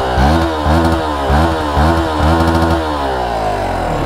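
A 2022 Hero XPulse 200 motorcycle engine runs close by, with a steady single-cylinder idle broken by several quick throttle blips in a regular rhythm before it settles back to an even idle.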